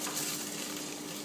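Tomatoes and vegetables for Czech lečo sizzling in a pan as they are stirred, a faint, steady frying hiss over a short stretch with no voices.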